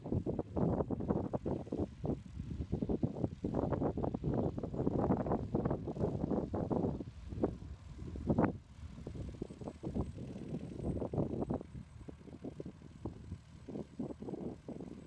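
A light aircraft taxis back along a runway after landing at a crosswind-prone airfield, its propeller engine droning steadily up close with pulsing surges and gusts of wind buffeting the microphone.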